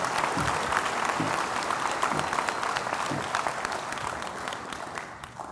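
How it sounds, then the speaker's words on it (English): Dense applause from a graduation ceremony audience honoring master's and doctoral graduates, sustained and fairly loud, slowly tapering toward the end. "give another round of applause to our graduates"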